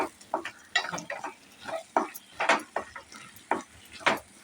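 Potatoes sauté in oil for an aubergine and potato curry, heard as a series of distinct spatula scrapes and clinks against the pan over a soft, quiet sizzle.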